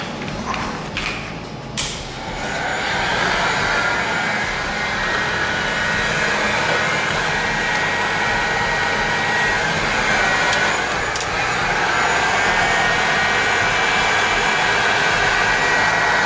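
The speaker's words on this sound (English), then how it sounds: "I use industrial fan for this purpose." An industrial fan blows hot air on a metal vise in a machining shop, a loud steady broadband roar like a heat gun, preceded by a few brief clicks and knocks at the start.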